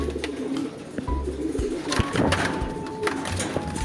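Pigeons coo steadily at a loft housing stock birds, several birds calling close by in overlapping low burbling phrases alongside rustling.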